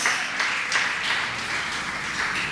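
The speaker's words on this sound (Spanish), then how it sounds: "denle un aplauso fuerte al Señor" A congregation clapping during a Spanish-language church service, a dense, steady patter of applause with a few stronger rhythmic accents, moderately loud and without speech.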